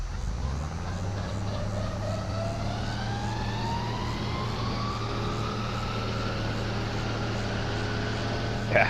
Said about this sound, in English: So let's hold the mower back out. Okay, so this spooling up sound is what I was talking about.